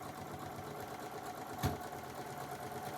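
A sewing machine chain-pieces quilt blocks for a nine patch project, a faint steady mechanical hum running throughout with one soft knock partway through, no talking.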